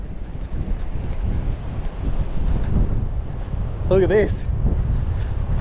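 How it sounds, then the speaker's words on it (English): Strong beach wind roars and buffets the microphone while an awning is packed up, a steady rumbling blast that continues under a brief spoken remark. "this is what packing up an awning in the wind looks like"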